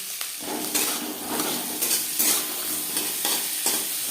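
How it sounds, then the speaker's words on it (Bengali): Green peas stir-fried in a spoonful of hot mustard oil, with a close, loud sizzle broken by regular scraping stirs of the spatula against the pan. "এক চামচ সর্ষার তেল গরম করে নিয়েছি এবার দিয়ে দিলাম মটরশুঁটি"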